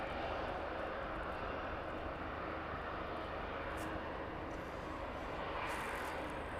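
A West Atlantic Boeing 737 jet taxiing past at East Midlands airport in the evening gives a steady, loud broadband engine roar that holds level throughout with no talk over it.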